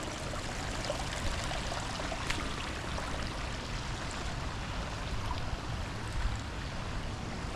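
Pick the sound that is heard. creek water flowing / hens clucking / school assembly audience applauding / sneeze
creek water flowing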